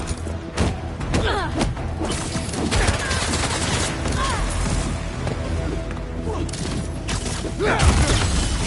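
Gunfire in the Spider-Man 2 video game: rapid crackling bursts and scattered shots mixed with mechanical clanks and thuds, loud and busy throughout, with brief voices underneath.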